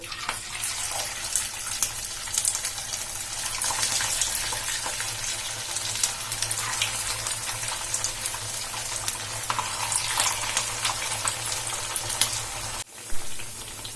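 Dough pieces frying in hot oil, a steady close hiss and crackle of bubbling oil that keeps going throughout with no talking, broken briefly near the end.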